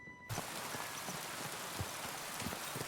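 Steady rain pours down in the video game Kingdom Come: Deliverance 2, a dense, even hiss of drops hitting the ground with a few soft, heavier spatters. It starts abruptly and continues unbroken, with no voices.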